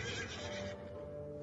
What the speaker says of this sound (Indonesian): Ringkiknya yang dahsyat mengerikan.